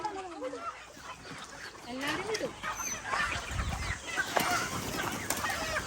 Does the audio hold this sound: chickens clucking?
yes